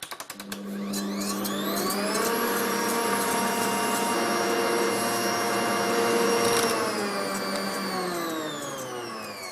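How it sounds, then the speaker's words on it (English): Electric hand beaters whisk egg yolks into a mousse, their motor whining up to speed in the first moments and then holding a steady, loud, close hum with no talking. "we need to get our egg yolks on whisking up to a mousse. So I'm going to turn those on."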